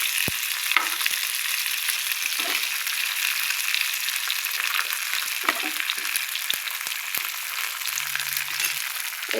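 Fish fries in a pan of hot oil, giving a steady close hiss and sizzle with scattered crackling pops, no voices.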